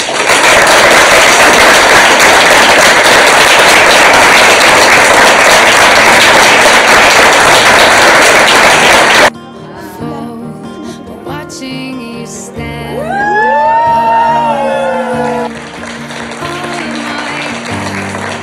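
Wedding guests burst into loud, dense applause for the newlyweds for about nine seconds, then it cuts off abruptly to quieter sounds and music.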